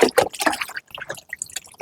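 Water is poured over a dog during a wash for ticks and fleas, making close, uneven splashes and trickles in short bursts with wet dripping between them.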